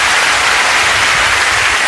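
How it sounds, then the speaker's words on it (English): Theatre audience applauding at a live stand-up comedy show, a dense, steady wash of clapping that stays loud and even throughout with no voices on top. "Give Simon a round of applause, ladies and gentlemen, for George Lattimore."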